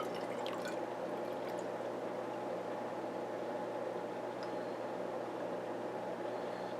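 Water rinsed through a bloodworm feeder tube into a fish tank, a steady soft pouring and trickling wash with faint drips, continuous and close with no talking.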